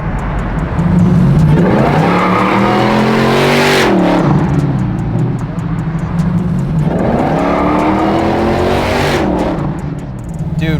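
A Hellcat-swapped Plymouth Cuda pro-touring build with a 707 hp engine goes to full throttle with tires spinning, a loud, close engine roar climbing through gears in two long surges with squealing rubber, no talk.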